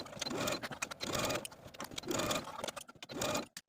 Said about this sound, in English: take this to our sewing machine and edge stitch close to this inner folded edge